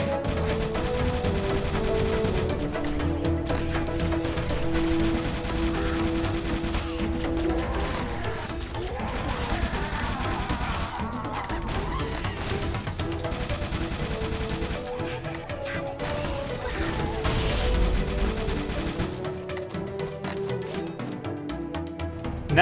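Rapid gunfire from the Needler weapon in the Halo video game, a loud, dense stream of repeated shots and crashes that runs without a break, with music and game sounds layered underneath.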